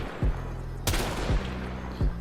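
Rubico Prime sniper rifle in the video game Warframe, firing several heavy, booming shots spaced roughly half a second apart, with one sharp crack standing out, close and loud.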